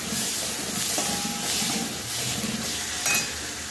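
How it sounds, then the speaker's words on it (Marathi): Chopped coriander and tomato are stirred into frying masala for a spicy vada curry, giving a continuous hiss and sizzle with soft scraping and a brief clink near the end. "आपण याच्यामध्ये चाप केलेली कोथिंबीर आणि टमॅटो पूर्णपणे असं छान घालून घ्यायचे आणि मस्त मिक्स करून घ्यायचं"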